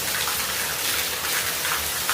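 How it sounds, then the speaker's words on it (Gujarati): Heavy rain pours down in a steady, dense hiss that stays loud and unbroken throughout, with no voices. "જોવો છો તમને વરસાદ ફૂલ ચાલુ થઈ ગયું છે."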